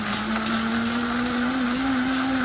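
A Vitamix high-performance blender runs steadily on its smoothie setting, a loud, even motor whir with a constant pitch and no pauses or talk throughout.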